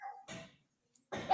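A pet dog barks in two or three short, close, loud bursts separated by brief silence indoors.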